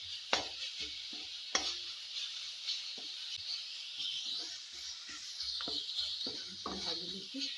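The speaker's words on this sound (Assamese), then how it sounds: "ভাজি দিছোঁ" A Mughlai paratha filling with garam masala and coriander powder sizzles and is stirred in a pan, with a steady close frying hiss broken by scraping and stirring knocks.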